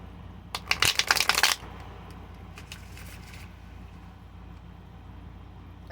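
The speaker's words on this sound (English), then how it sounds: "This deck really wants to be shuffled." A deck of tarot cards is riffled and shuffled up close, a dense burst of crisp, flapping card noise lasting about a second, then a few softer taps and slides against a quiet room.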